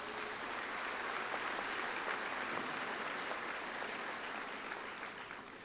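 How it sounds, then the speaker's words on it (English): Broad, sustained applause from a large audience at a university commencement ceremony, dense and even, fading slightly toward the end with no speech over it. "let's give them a nice round of applause,"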